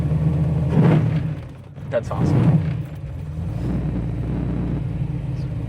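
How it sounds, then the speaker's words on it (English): A deep, steady V8 exhaust rumble from a 1969 Camaro RS/SS restomod runs throughout, with a couple of louder low booms early on while a person speaks briefly over it. "the exhaust is real nice and crisp, loud outside"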